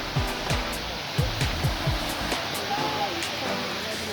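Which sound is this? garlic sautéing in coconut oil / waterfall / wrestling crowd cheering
waterfall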